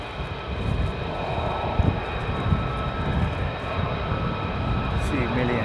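A four-ship of F-35 Lightning II fighter jets flies in near an airbase. Their engine noise is a steady, moderately loud rumble with a voice talking over it.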